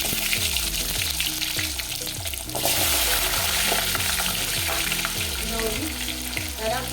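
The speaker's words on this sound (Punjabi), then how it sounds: "ਚੰਗੀ ਤਰ੍ਹਾਂ ਆਂਗਨ ਤੇਲ ਦੇ ਵਿੱਚ ਆਪਾਂ ਭੁੰਨ ਲਈਏ" Indian gooseberries (amla) fry in hot oil with cumin seeds while amla pickle is made. A loud, steady sizzle runs throughout, with soft rhythmic stirring knocks underneath and a sudden burst of hiss partway through.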